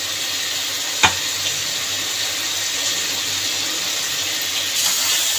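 Chicken frying with a ground roasted spice paste for a Mughlai-style curry, giving a steady close sizzle and hiss, with one sharp utensil clack near the start.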